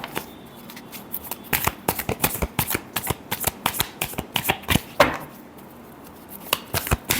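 Tarot cards being shuffled by hand during a reading, a series of crisp riffling flutters and sharp slaps in uneven bursts, close and clear with a brief pause near the end.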